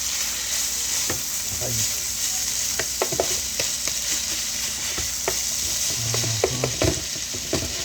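Taco filling with tomatoes frying and being stirred in a pan, a steady close sizzle with scattered scraping stirs, while a voice murmurs briefly.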